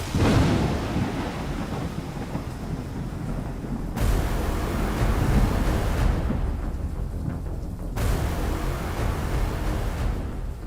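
Heavy rain pours steadily while deep rumbles of thunder roll through a storm, a loud, dense wash of sound with abrupt cuts between sections and no voices.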